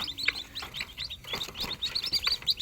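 Small birds chirp and tweet in quick, overlapping calls as they leave an opened cage, a busy close-up chorus with no talking.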